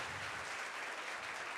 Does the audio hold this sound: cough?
no